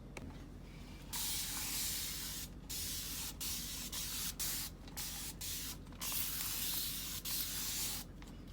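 Homemade cleaner sprayed from a trigger bottle onto the rubber door seal of a front-load washing machine, a series of about ten short, close hissing bursts at an irregular rhythm with a steady low hum underneath.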